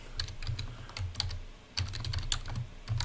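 Steady, fast typing on a computer keyboard, a close and moderately quiet run of light key clicks with one brief pause, and no talking.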